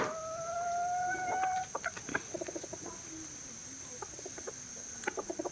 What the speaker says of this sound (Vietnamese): Gà rất là máu chiến luôn